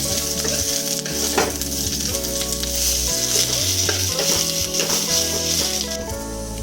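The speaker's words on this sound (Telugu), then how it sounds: "ఈ బీరకాయ పొట్టు కొంచెం పచ్చివాసన పోవాలన్నమాట పచ్చివాసన పోయి పోయేంతసేపు బ్రౌన్ కలర్ వచ్చేంతసేపు వేయించుకోవాలి" Ridge gourd peel fries in a pan with a loud, steady sizzle and constant stirring scrapes close by, and no talking.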